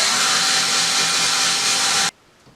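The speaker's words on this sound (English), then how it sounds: "So we'll drill the next hole in." A power drill bores a hole into a wall for hanging a painting over a staircase, running as a loud, steady whir close by for about two seconds before cutting off abruptly.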